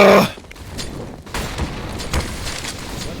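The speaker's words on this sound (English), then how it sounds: "they're just smacking nades into each other like crazy" Grenades exploding in Counter-Strike, a loud burst at the start followed by several muffled booms and thuds in quick succession, fairly close and without talk.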